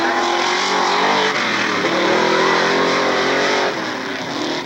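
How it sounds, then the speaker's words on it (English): A Class 6 mud bog truck at the 1994 Lake Odessa, Michigan event roars steadily as it swings wide through a turn, its engine loud and continuous with a rising and falling pitch. "And Rick Rayford, as he does a 360 down here, trying to get back on course here."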